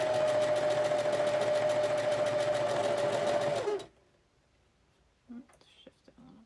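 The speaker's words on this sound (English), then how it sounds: "I'm going to go a little slower than I usually sew" A home sewing machine stitches a Christmas quilt block in a loud, steady whir for several seconds, then stops abruptly, leaving near silence with a few faint handling sounds.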